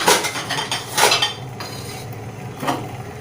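Ingredients such as steamed oyster mushrooms and roasted chilies pounded in a mortar for a Thai dish, giving several loud clattering pestle strikes in an uneven rhythm, close and alone with no talk.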